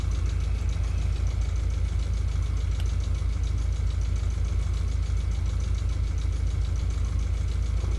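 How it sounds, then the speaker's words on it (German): Steady, continuous diesel idle of a shunting locomotive standing alongside in a train simulator game, a low rumbling drone with a faint knocking pulse, close and unbroken throughout with no talking. "Neben uns steht eine Rangierlok."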